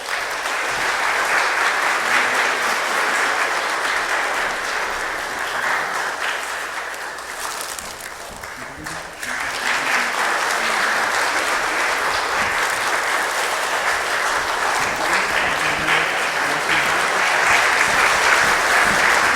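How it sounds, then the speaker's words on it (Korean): A church congregation at a Korean Sunday service applauds loudly and steadily, a dense wash of clapping that dips briefly in the middle before swelling back to full strength. "우리 다시 한번 힘차게 큰 박수로 우리 귀한들들 격려하겠습니다"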